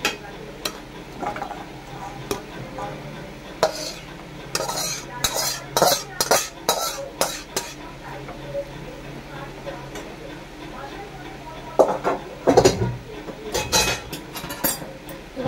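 Okra and prawn curry in a thin gravy with potato, scraped and spooned from a pan into a serving dish after the gas is off, giving scattered metallic clinks and scrapes of a utensil against cookware, close and intermittent.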